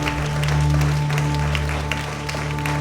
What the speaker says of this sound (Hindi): Give the Lord a good प्रभु को clap.